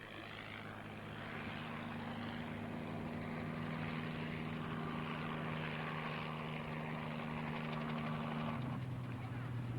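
A propeller aircraft comes in to land at an agricultural aviation reunion air display, its engine drone steady and fairly distant, with a pitch drop near the end.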